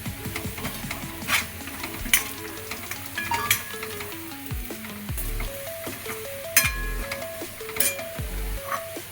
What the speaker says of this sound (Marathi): कांदा लसूण मसाला, हळद, लाल मिरची आणि गरम मसाला घालून आपण परतून घेणार आहोत.